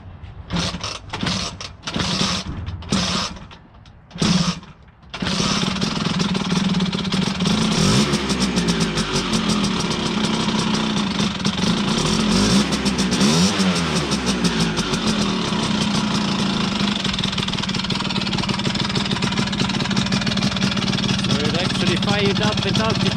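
A 1982 Vespa scooter engine, started cold without the choke, coughs through a few sputtering attempts before catching and settling into a steady, buzzy idle with occasional revs; people talk intermittently over it.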